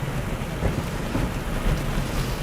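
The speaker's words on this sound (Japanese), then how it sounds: "雨がめちゃめちゃ降ってきました。" Heavy guerrilla downpour hammers on a car driving about 50 km/h on a local road, a dense, loud, unbroken roar of rain with road and engine rumble beneath.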